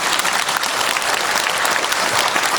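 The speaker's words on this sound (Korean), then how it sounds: "박수 한번 쳐주세요." An audience at a Won Buddhist New Year's greeting gathering in Busan breaks into steady, dense applause, many hands clapping continuously and loudly throughout with no pauses.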